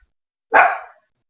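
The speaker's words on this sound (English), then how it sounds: "That's my dog." A single short bark from a pet dog indoors, sharp and fairly loud, ringing out once after a silence and fading within half a second.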